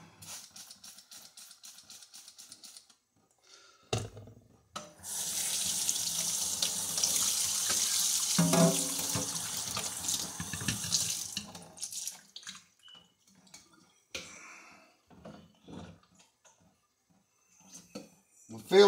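Water runs from a tap while wine-making equipment is sanitized for a homemade blackberry wine batch, a steady rushing stream lasting several seconds and then stopping, followed by scattered clinks and handling noises.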